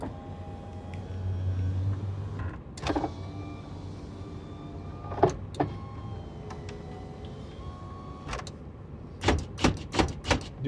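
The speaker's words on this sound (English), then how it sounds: "Do have power windows." Power windows whirring in a 1996 Ford Bronco XLT 5.8L V8, a steady motor hum running for a couple of seconds, followed by several sharp clicks and thumps of switches and stops inside the cab.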